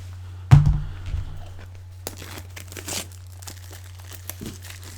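Crinkling and tearing as a blade cuts around the edge of a KZ ZSX earphone box, a sharp close crunch near the start followed by softer scattered rustles and thunks.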